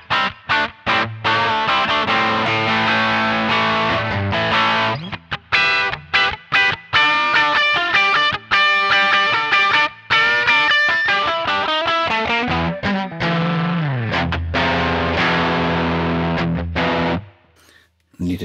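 Distorted electric guitar through an amp simulator playing a busy riff with chords and single notes, loud and continuous, ringing into a roomy spring-style reverb echo before cutting off near the end.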